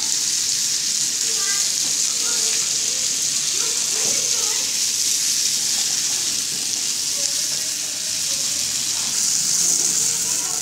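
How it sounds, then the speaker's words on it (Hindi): Food fries in a pan over low heat with a steady, loud sizzle and occasional scraping from stirring, running throughout the clip. "अच्छे से फ्राई करना है ये अच्छे से मिक्स हो जाएगा इस तरह से चला के फ्राई करनी है"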